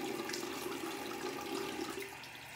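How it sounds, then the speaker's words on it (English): Water pouring steadily from a sink tap into cupped hands, a soft continuous splashing hiss that holds level and eases slightly toward the end, with no talking. "And now you fill up your hands with water and go like this."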